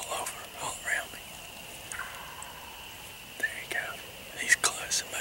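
A wild turkey gobbles during a spring hunt in the Mississippi woods, a few short, distant-sounding gobbling bursts with quiet whispering and soft rustling between them.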